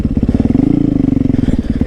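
A loud pit bike engine revs close by on a pine-straw trail, a rapid pulsing rumble that rises and falls in a short burst.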